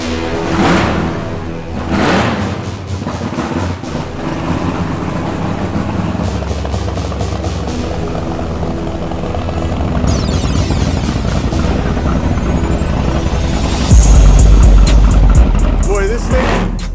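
Blown big block right-hand-drive Chevy C10 truck driving, a loud rumbling engine that builds in intensity with revving surges and a hard blast near the end, close up, with people talking over it at times.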